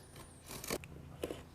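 A fresh blade slices through rattan cane during sofa restoration, giving two short crisp cutting crackles, one in the middle and one near the end, over a low steady background hum.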